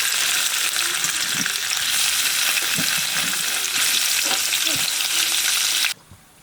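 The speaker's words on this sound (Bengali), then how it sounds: "আমরা পিস পিস করে কেটে রাখা পনিরটা ভেজে নেব তার জন্য প্রথমে তেল দিয়ে দিচ্ছি" Paneer pieces fry in hot oil, a loud, continuous hissing sizzle close up, with faint stirring scrapes underneath, cutting off abruptly near the end.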